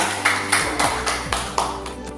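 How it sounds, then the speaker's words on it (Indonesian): A small classroom group claps for group 2 after their presentation, a sparse handful of distinct hand claps spaced roughly a quarter second apart over a steady background hum. "Tepuk tangan untuk kelompok 2"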